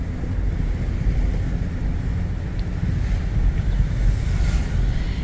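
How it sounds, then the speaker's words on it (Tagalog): Strong wind blows continuously across the microphone, a loud, rumbling roar with no voices. "Ay, sarap ng hangin."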